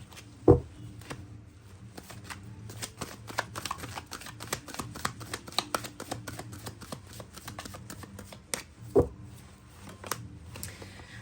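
A deck of tarot cards is shuffled by hand in a quiet room, giving a long run of soft, rapid papery riffles and flicks with two sharper slaps where the deck is tapped or cut, no voices.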